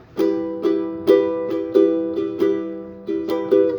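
Ukulele strummed alone in a steady rhythm, bright chord strokes repeating about every half second, with a quick extra up-stroke near the end of the pattern.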